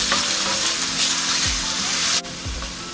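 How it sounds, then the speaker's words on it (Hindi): Finely chopped chicken breast fillet frying in a pan over high heat, a steady loud sizzle throughout with a few soft stirring scrapes and a brief dip near the end. "इसको अब हमने तेज़ आंच पे फ्राई करना।"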